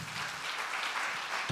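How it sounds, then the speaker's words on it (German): Brief, steady applause from a conference audience, a continuous even wash of many hands clapping at moderate loudness with no pauses. "Und jetzt geben wir auch diesen Menschen einen großen Applaus."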